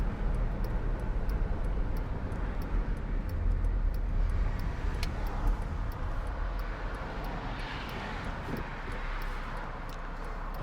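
A 2006 Mercedes-Benz SLK280 with a 7G-Tronic automatic cruises along the motorway with its hood up, giving a quiet, steady drone of road and engine noise that carries on unbroken.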